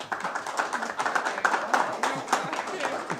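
Council meeting audience clapping, a short round of steady applause from a small crowd in a meeting room, fairly close, with voices talking over it.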